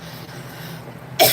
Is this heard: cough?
yes